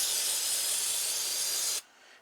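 Carburetor cleaner sprayed from an aerosol can onto the outside of a Tecumseh go-kart engine carburetor, a loud, steady bright hiss lasting nearly two seconds that cuts off sharply into quiet.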